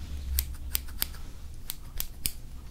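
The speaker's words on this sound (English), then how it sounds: "Go ahead and get the baby scissors out." Small scissors snip several times in an uneven rhythm, crisp close-up clicks against a quiet background.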